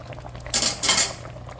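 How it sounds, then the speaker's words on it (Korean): Perilla seed sujebi soup is ladled into a bowl, with two quick bursts of clinking and liquid scraping against a quiet kitchen background. "자, 그럼 그릇에 담아 볼게요."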